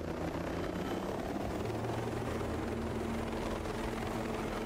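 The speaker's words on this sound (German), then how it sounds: "Also mein Heli hält nicht mehr lange aus." Continuous rotor thrum and engine roar of a damaged helicopter in Tom Clancy's Ghost Recon Breakpoint, steady and loud throughout with no pauses.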